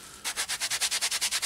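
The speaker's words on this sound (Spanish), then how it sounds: "Simplemente pasáis la arcilla limpiadora y veis" Cleaning clay rubbed back and forth over heavily rusted nickel plating, a close, loud rasping scrub repeating in an even rhythm of about a dozen strokes after a short quiet start.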